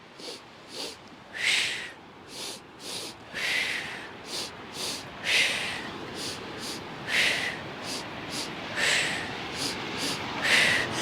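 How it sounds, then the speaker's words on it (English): Quick sniffing breaths repeat in a steady rhythm, short double inhales through the nose, close and fairly soft, with no talking. "Pulse it twice with a sniffing breath."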